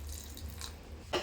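Water is poured over jaggery in a cup for a green gram laddu: a steady close trickle and splash running throughout, swelling briefly louder at the very end.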